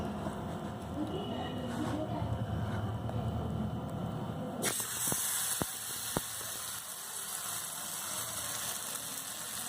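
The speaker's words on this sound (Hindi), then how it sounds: "ये देखिए हमारी अच्छी तरह से फ्राई हो रही है।" Food coated in maida batter fries steadily in hot oil, giving a constant sizzling hiss with a few sharp pops, and the sizzle grows brighter partway through.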